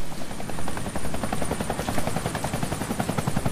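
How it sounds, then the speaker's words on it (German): A helicopter in the video game Deadlight thumps with a fast, steady rotor chop that stays loud and close throughout. "Oh, Hubschrauber."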